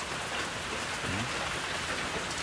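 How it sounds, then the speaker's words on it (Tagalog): Steady rain falls in a rural mountain setting, a dense, even hiss of drops on surfaces with no breaks and no voices, filling the whole stretch at moderate level. "Medyo ulan-ulan karon nga panahon, madungog pa mga inyo nga nay background sa uwan."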